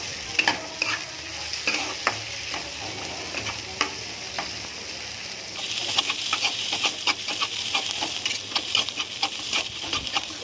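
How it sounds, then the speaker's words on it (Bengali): Onions frying with green chillies in a pan, a steady sizzle broken by scraping stir strokes that grow louder and busier partway through; no talking. "কিছুক্ষণ ভেজে নেব পেঁয়াজটা"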